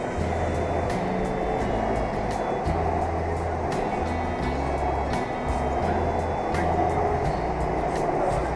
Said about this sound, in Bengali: ট্রেনটা ঠিক যতটা পথ গঙ্গার নিচ দিয়ে যাচ্ছে